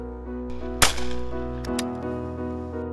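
Shotgun shots ring out at a British pheasant shoot: one sharp, loud crack near the start, then a fainter second shot, both over a steady low background hum.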